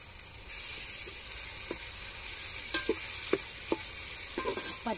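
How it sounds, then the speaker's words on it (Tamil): Tomatoes frying in a pan for fish biryani, a steady soft sizzle with occasional scraping stirs and brief clatters of a spoon against the pan, fairly quiet and close. "தக்காளி நல்லா வதங்கணும்."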